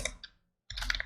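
Typing on a computer keyboard: a short cluster of key clicks, a brief pause, then a quicker run of crisp keystrokes, close and clear.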